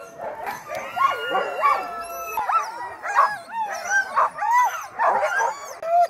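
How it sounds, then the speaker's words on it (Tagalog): Huskies waiting to pull a sleigh in Lapland, Finland, bark, yip, whine and howl together in an excited, continuous chorus close by. "Excited na ata yung mga husky na makaalis."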